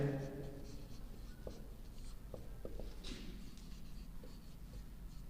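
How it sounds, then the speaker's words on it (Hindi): A Sanskrit grammar sutra being written out by hand, with close, soft pen scratching in short strokes and a few taps, a voice speaking briefly at the start. "सूत्र आपके इसमें लिखते हैं"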